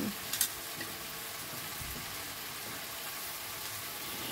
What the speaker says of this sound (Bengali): নিয়ে এর ভেতরে আমি দিয়ে দিচ্ছি আটার যে রুটিটা কেটে রেখেছিলাম সেটা দিয়ে দিলাম